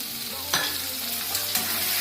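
Potato pieces frying in a pan with salt and a little turmeric, a dense continuous sizzle near the mic with a few brief stirring scrapes and no voices.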